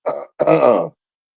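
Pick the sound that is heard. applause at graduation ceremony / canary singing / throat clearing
throat clearing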